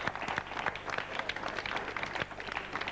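Brief studio audience applause for a singer on a 1993 local Italian TV programme, a dense patter of clapping from a modest crowd lasting a few seconds.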